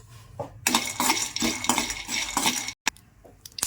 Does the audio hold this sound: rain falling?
no